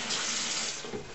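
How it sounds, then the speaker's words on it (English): Water runs steadily from a tap into a sink while hands are washed beneath it, a short, soft and close hiss with no talking. "I'm washing my hands when I'm about to put them in"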